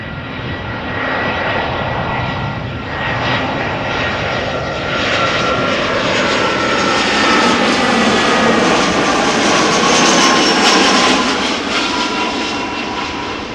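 TAP Air Portugal Airbus A320, 13 years old and arriving from Lisbon at Amsterdam Schiphol, passes with a steady, loud jet roar that swells slightly toward the middle and then holds, with no talking.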